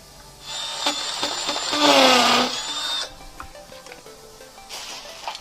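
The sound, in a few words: hammer drill drilling into concrete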